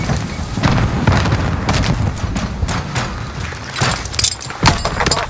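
A grenade explodes in Call of Duty: Modern Warfare during a team deathmatch on the Hackney Yard map, with loud booming blasts and rumbling in bursts, and several sharper detonations near the end, with no talk over them.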